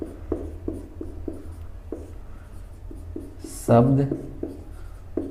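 Chalk or marker taps and scratches across a classroom board in short, regular strokes, fairly close, while a teacher talks over it in Hindi.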